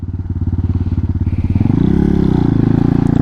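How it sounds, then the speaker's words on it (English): A 2022 Honda Hawk 250 motorcycle putters loudly nearby with a rapid, even thumping exhaust pulse, then the revs climb and the beat quickens into a harder, denser drone. "my bike draws so much attention since it's so loud and so slow"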